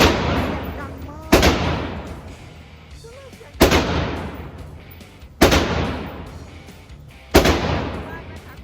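Rifle shots at an outdoor shooting range from a first-time shooter under a military instructor: four loud, booming reports roughly two seconds apart over steady background noise, each leaving a lingering tail.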